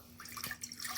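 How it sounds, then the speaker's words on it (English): Water poured into a pot in a home kitchen while prepping apple cobbler, a brief soft splashing trickle lasting about a second, close and fairly quiet with no talk. "We're starting with our 1 cup of water"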